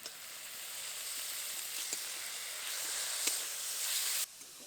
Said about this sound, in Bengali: সমস্ত সবজিগুলোকে খুব হালকা করে ভেজে নিয়েছি এখন ওর মধ্যে দিয়ে দেবো চিকেন কিমা